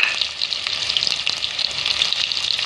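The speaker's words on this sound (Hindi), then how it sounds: "अब मैं इसमें आलू को थोड़ा सा फ्राई करूँगी" Potatoes frying in a pan for a spiced gram-flour potato snack, giving a steady, dense sizzle that holds evenly throughout with small crackles and pops, close and continuous, no voices.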